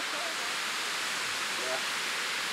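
Water rushes steadily at an 1890s grist mill's 14-foot water wheel in Chatham, Virginia, a constant broadband roar close by.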